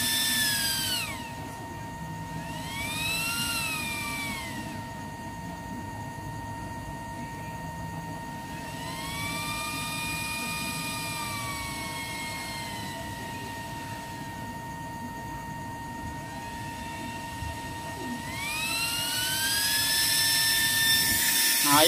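A new 13.2 W, 40x40 mm mini fan blower for a used-oil stove runs with a steady hum and whine, its pitch sweeping up and down in several surges, loud and close, with no talk.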